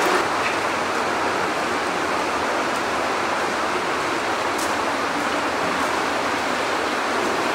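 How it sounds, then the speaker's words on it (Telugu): Water rushing through Arwah Cave near Cherrapunjee, Meghalaya, a dense, constant roar of flowing water that fills the space evenly with no break. "ఈ కేవ్స్లో నుంచి వాటర్ పోతా ఉన్నాయి."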